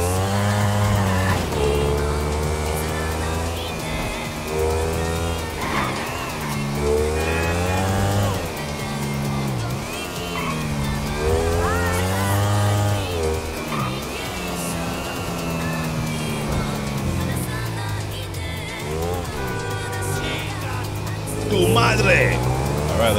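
A Ducati Desmosedici GP motorcycle engine in the GTA 5 video game revs up and down repeatedly in rising and falling sweeps, loud and close, while someone talks over it.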